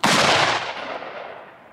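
One loud, close rifle shot fired at a bulletproof vest not rated for rifles, a sharp blast that rings out and decays over about a second and a half, with no voices.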